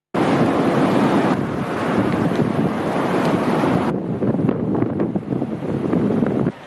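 Strong wind roars and buffets the microphone over rough, crashing sea waves on the coast at Mannar in rainy, stormy weather, loud and continuous throughout with no voices.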